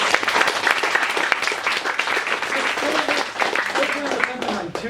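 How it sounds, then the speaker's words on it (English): Applause at the 2022 MSO closing ceremony and medal presentation: a dense, steady crowd clapping that holds at an even, fairly loud level for about five seconds, with no voices standing out. "First, a round of applause to Jordy, by the way."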